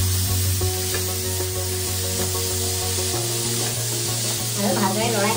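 Chopped spinach hissing in a hot pan as it is stirred, a loud continuous sizzle over a low steady hum, with some clattering stirring toward the end.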